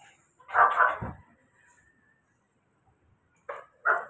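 A dog barks in a quick double burst, then after a pause barks twice more, close and loud against a quiet background.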